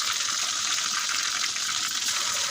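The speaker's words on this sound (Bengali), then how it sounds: "তারপরে দিয়ে দিয়েছি কাঁচামরিচ এবং রসুন দিয়ে এটাকে একটু 1 মিনিটের মতো ভেজে নেব" Green chilli and garlic frying in hot oil for an olive pickle, a dense, continuous hiss and crackle of bubbling oil, close and even throughout.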